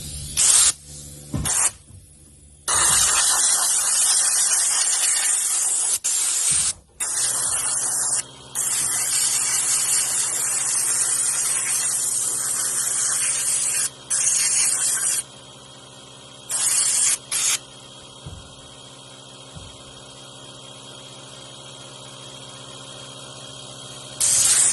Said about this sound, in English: I'll blow it out real good, but it is aluminum, so hopefully it won't. Let me get the air and blow that.